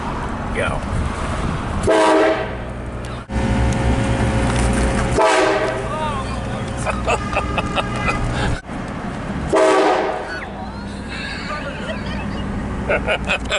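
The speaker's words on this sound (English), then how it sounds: "Let's see if they still react angrily at the train horn." A train horn mounted for a Halloween prank blares in three loud, sustained blasts separated by pauses, with people talking and reacting between and over them.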